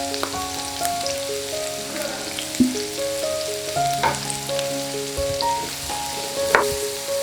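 Two large finely chopped onions sizzle in melted butter in a pan, a steady close frying crackle with occasional stirring clinks and no talking.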